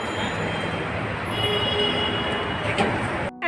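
A Dhaka metro rail train runs close by with a steady, loud rumble and a thin, high wheel squeal sustained throughout, then the sound cuts sharply just before the end.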